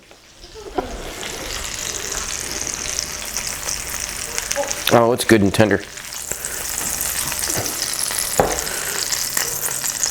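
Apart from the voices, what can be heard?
pork sizzling in pan before Dutch oven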